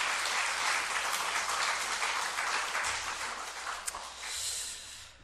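A church congregation claps together in a broad, steady round of applause that fades slightly toward the end, dense and fairly close.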